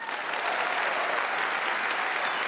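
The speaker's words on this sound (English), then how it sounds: "Let's give him a round of applause." Audience applause at a game awards show, a steady dense patter of clapping hands that holds evenly throughout, moderately distant and without any voices over it.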